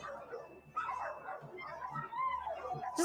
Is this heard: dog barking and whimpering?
yes